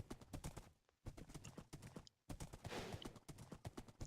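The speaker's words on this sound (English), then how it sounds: "Love how fast this horse runs." Hooves of a galloping horse in Minecraft beat out a fast, regular clip-clop rhythm, close and prominent, broken by two brief pauses before the galloping resumes.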